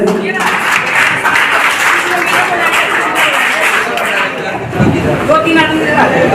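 Audience applause welcoming a DSP officer at a youth event in Bihar, a loud, sustained wash of clapping mixed with crowd chatter and voices, running the whole time with a brief dip before swelling again.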